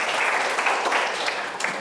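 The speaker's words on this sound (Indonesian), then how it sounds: "kasih tepuk tangan" A classroom group claps steadily for about two seconds, the dense clapping fairly loud and close and blending into a continuous patter, with no talk over it.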